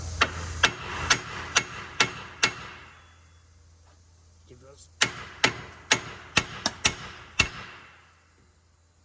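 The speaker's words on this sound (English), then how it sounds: "Take a hammer." A hammer strikes a castle nut threaded onto the front axle of a Ford F-250 during u-joint and axle seal work: two runs of sharp metallic whacks, about six and then seven, evenly spaced, with brief speech between.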